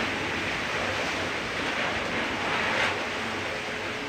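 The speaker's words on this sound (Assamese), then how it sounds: "যোৰহাটত এতিয়া বতাহ" Strong wind during a storm in Jorhat, a dense, continuous roar of gusting air that swells slightly toward the end, heard alone with no voices.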